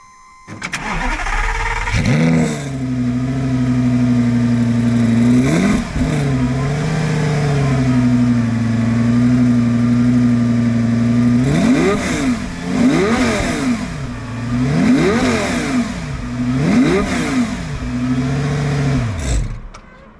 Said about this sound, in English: a comparison of the engine sound and the looks of a Challenge Stradale 360 against a Lamborghini Gallardo Superleggera